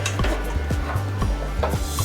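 Roasted fenugreek seeds being scraped out of a pan, rhythmic repeated scraping and rattling strokes about every half second, close and fairly loud over a faint background hum.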